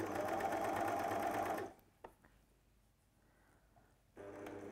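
Overlocker sewing machine stitching fabric runs loud and steady, stops abruptly, leaves a quiet gap with a couple of small clicks, then whirs up again near the end.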